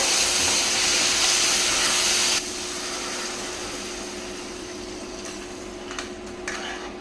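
A loud, steady hiss of water poured into a hot pan while making semiya kesari, sizzling strongly at first and then settling into a quieter, even simmer with a few clinks near the end.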